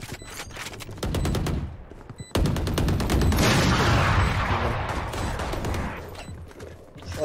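Valorant gunfire: loud, rapid automatic bursts of sharp shots, a short break, then a long sustained volley with a dense, ringing wash behind it.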